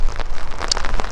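Steady rain falls on a golf course, a dense, loud patter of drops hitting the surface throughout with no talking.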